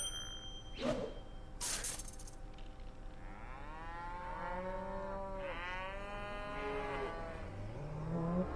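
A recorded cow moo played back through a small audio amplifier module, two long, drawn-out lowing calls, slightly tinny, preceded by a couple of sharp clicks over a steady electronic hiss.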